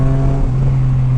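Yamaha Niken three-wheeled motorcycle fitted with an Akrapovic exhaust with the baffle removed, idling with a steady deep, throaty drone and a brief dip in pitch partway through, loud and close with no talk.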